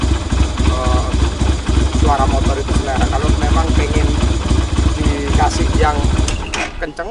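A Kaisar Ruby 250 custom motorcycle fitted with a Harley Davidson exhaust rumbles close by with a deep, steady, bassy idle that throbs throughout and dips at the end, while someone talks over it.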